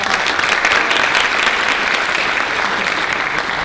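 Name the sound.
audience applause for a panel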